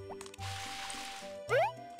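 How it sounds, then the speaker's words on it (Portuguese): A watering can pours onto crops in the farming game Harvest Moon: Back to Nature, giving a short burst of gushing liquid followed by a bright rising game tone and soft chiptune music underneath, with no talk. "eu vou começar regando aqui enquanto eu ainda tenho o regador no mínimo"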